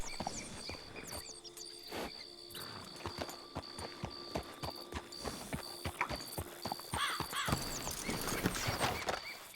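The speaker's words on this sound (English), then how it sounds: "Is that Mr. North's horse?" Horse hooves clip-clop steadily at a walking pace, with whinnies and snorts, faint crickets and birds in the background, fairly quiet and outdoors.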